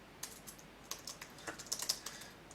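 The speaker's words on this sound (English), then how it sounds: "And I'm going to type in the title now." Fingers typing on a computer keyboard, a quick irregular patter of light key clicks that speeds into a denser burst, close and fairly quiet, no talk.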